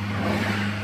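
A Mercedes A-Class engine held at full throttle against its rev limiter, giving a steady, sustained drone with a constant pitch that does not climb any higher, close and fairly loud.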